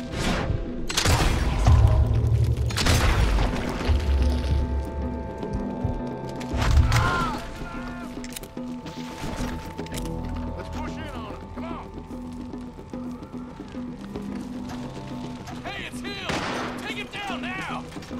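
Gunfire in the western video game Red Dead Redemption 2, repeated heavy shots and booms scattered through a shootout, mixed with game music, effects and voices talking throughout.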